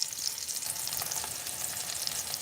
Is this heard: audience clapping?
no